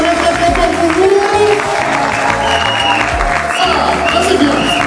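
Wedding guests at a religious ceremony in Brussels applaud and cheer in a sustained, loud burst of clapping, with music or other sound underneath throughout.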